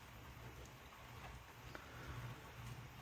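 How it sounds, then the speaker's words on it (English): Steady rain falls outdoors by a road, a quiet continuous hiss with low background rumble and no talking. "It is raining"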